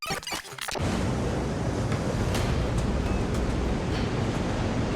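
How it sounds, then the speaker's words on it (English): A rogue ocean wave crashes onto a pier's concrete slipway ramp, a sudden loud roaring surge after a few brief splashy hits, then sustained turbulent water noise with no voices. "a rogue wave crashes on the ramp, knocking a girl between the railings"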